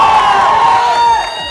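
Students in a college canteen crowd break into loud cheering and whooping, a sustained dense roar of voices filling the whole moment at a university campus event.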